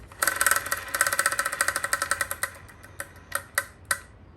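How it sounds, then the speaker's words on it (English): A ticking fortune wheel spins nearby, its rapid steady clicks gradually slowing into a few sparse, separated ticks before stopping. "you can ask a question with the Wheel of Fortune, and I will spin the wheel for you"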